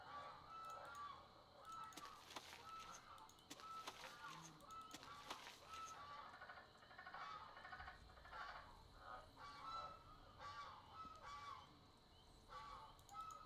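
Nesting geese honk repeatedly at a distance outdoors, with faint croaks from a nearby frog and quiet talk from a person in between.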